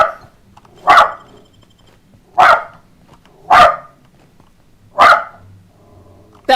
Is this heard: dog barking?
yes